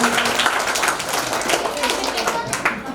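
Guests at a children's birthday celebration clap hard, a lively, uneven patter of many hands close by, with people talking and calling out over it.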